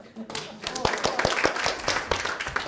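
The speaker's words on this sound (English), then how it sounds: "Let's give them a round of applause." A small audience claps in welcome, a short burst of scattered, uneven hand claps mixed with people talking over it.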